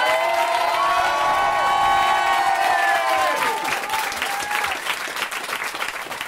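A studio audience on a French comedy show applauds and cheers for a singer's entrance, loud continuous clapping with shouts and sung tones over it, fading toward the end.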